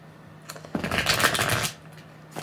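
Tarot cards being shuffled, a single burst of rapid riffling and flicking about a second long, close and crisp, with quiet room tone before and after.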